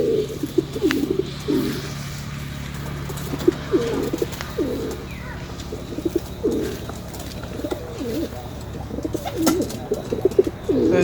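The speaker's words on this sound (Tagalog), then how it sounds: "Ito mga kalapatids, nagtitingin-tingin pa sa taas." Pigeons coo repeatedly in a home loft, low throaty calls recurring steadily throughout over a constant background hum, with occasional faint chirps.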